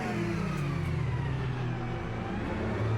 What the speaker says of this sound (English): the Ferrari engine screaming its defiance